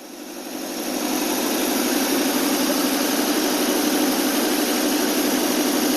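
An AMC 287 V8 idles steadily with its exhaust leak repaired, a constant loud hum and rumble that swells in during the first second and then holds even.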